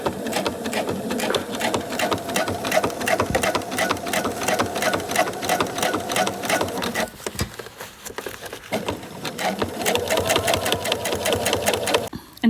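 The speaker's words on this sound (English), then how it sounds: "So when you stitch, you're stitching all the way through the bag, all the way around, and you're stitching in the ribbon." A sewing machine stitches ribbon onto a fabric Bible cover, humming in fast, loud runs of needle strokes with a brief lull partway through before it resumes.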